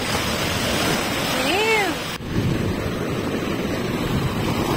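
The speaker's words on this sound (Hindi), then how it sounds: "इतना इतना ऊंचा वेव है यहाँ पे, भागो भागो।" Ocean waves crash onto the shore at Marina Beach in a steady, loud roar with wind buffeting the microphone, while a voice briefly calls out over the surf.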